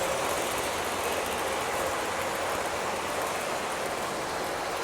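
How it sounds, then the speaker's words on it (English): A model passenger train runs on a home layout, giving a steady, even mechanical rumble and whir at moderate level, with no speech. "Here comes the passenger train."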